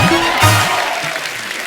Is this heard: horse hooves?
no